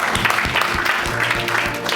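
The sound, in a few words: congregation applauding in praise of the Lord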